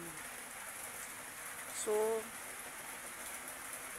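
Light summer rain falling outdoors in the Philippines, a soft steady hiss of drops heard throughout, with a man's brief spoken word partway through.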